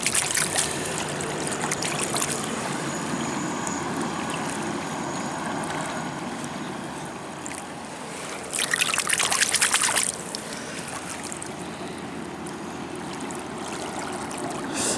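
Water laps and trickles along the muddy foreshore of the River Thames, a steady close wash with a louder rushing swell partway through and no speech.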